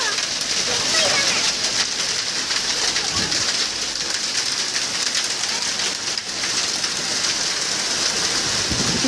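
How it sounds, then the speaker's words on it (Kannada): Hail-laden rain falls across Chitradurga district, a loud, dense, continuous patter of drops and ice striking surfaces nearby, with a few birds cooing faintly beneath it. "ಜಿಲ್ಲೆಯಾದ್ಯಂತ ಈಗ ಆಲಿಕಲ್ಲು ಸಹಿತ ಮಳೆ ಆಗಿದೆ"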